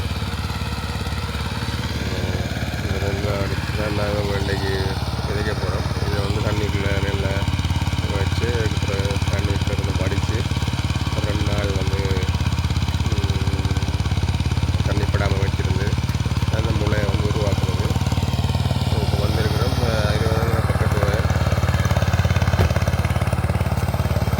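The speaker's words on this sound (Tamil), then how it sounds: "இது வந்து ஒரு சின்ன டிராக்டர் லேண்ட் மாஸ்டர்னு சொல்லுவாங்க" A small Land Master two-wheel tractor ploughing a paddy field in Batticaloa, Sri Lanka, its engine chugging steadily and continuously throughout, with someone talking over it for much of the time.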